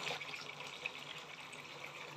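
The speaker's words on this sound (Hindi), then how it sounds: "अब इसके अंदर में पानी मिक्स करना है" Water poured steadily into a container to mix a 50-litre liquid fertilizer solution with humic acid, a continuous faint rushing and splashing stream with no talk.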